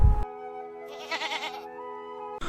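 A single sick goat bleats nearby, a wavering nasal call lasting about a second, set against a steady background hum.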